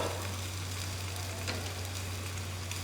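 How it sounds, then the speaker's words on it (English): A pot simmering on medium-low heat makes a soft, even sizzling hiss that holds steady throughout, with a constant low hum beneath it. "we want that to simmer on medium low for about 15 to 20 minutes until all the liquid is absorbed"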